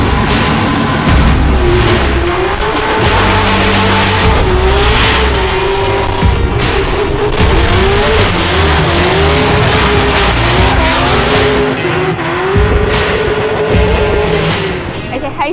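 A drift car driven by the 2020 Norwegian drift champion screams past on track, engine revving hard with sustained tire squeal and skidding, loud and continuous, with crowd or commentary voices underneath.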